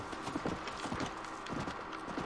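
A horse gallops in the Red Dead Redemption video game, with rapid, rhythmic hoofbeats drumming steadily and fairly close for a couple of seconds.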